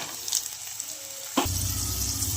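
Raw peanuts and green peas hit a hot pan with lightly fried green chillies and onion, setting off a sudden, steady loud sizzle that carries on after a quieter stretch of faint frying.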